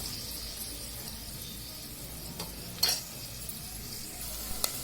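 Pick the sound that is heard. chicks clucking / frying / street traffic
frying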